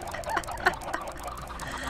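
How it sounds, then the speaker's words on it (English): Minecraft chickens cluck in short, close bursts inside a chicken coop in the video game, a few clipped squawks over a dense, noisy background. "I'm in the chicken coop and all the chickens are just surrounding me"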